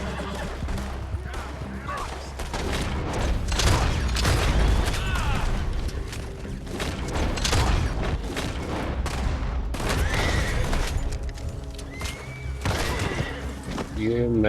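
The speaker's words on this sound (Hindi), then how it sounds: "ये मैंने शॉटगन से दे मारी" Repeated shotgun blasts and gunfire in a Red Dead Redemption Online bounty fight, loud and dense over several seconds, mixed with horse whinnies, hoofbeats and game noise, with someone talking throughout.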